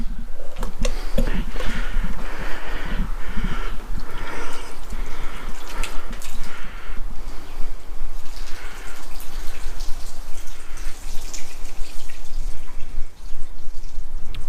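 Free-flowing water rinsing steadily over a glass ceramic-coated car's hood, fender and door, a continuous close hiss and patter of running water with scattered drips and no talk.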